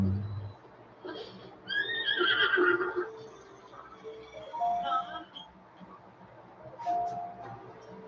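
A horse in The Legend of Zelda: Breath of the Wild lets out a clear, rising and falling whinny near the start, followed by a couple of shorter, fainter neighs against soft in-game background sound.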